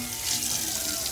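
Tap water runs steadily from a faucet into a dog water bowl, a continuous close hissing splash with no voices.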